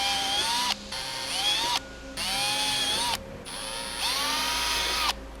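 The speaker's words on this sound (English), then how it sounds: "there's 4 1/8-inch holes that you also have to drill out for the hinges" Power drill boring 1/8-inch hinge holes in a composite Porsche 911/964 door panel: four whining bursts of rising pitch, each separated by a short pause, close and loud.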